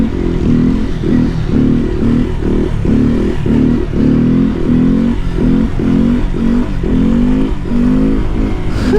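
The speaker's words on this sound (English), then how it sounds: "Victory wheelies." A small grom dirt bike at a motocross race at Bushnell revs hard in repeated rhythmic bursts during victory wheelies, the loud, close engine rising and falling about once a second.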